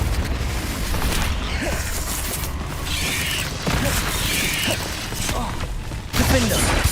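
Confringo spell blasts in the video game Hogwarts Legacy, repeated booming bursts and mechanical rumbles in a dense, loud mix, with sharp hits landing every second or so.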